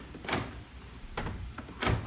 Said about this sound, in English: You can see the door is locking and unlocking.